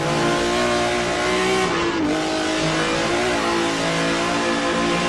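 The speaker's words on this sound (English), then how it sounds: "Now on board with Matt Wright driving the number 50 BMW M1 Group 5." The BMW M1 Group 5 race car's engine in a sim racing game at Road Atlanta holds a loud, continuous high-revving tone, with a quick gear-change dip and then steady roaring acceleration.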